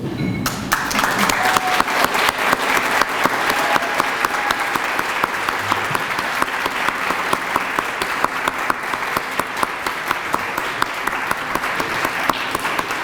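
Sustained applause from a large audience at an annual awards dinner, dense steady clapping filling the room from start to finish with no talk over it.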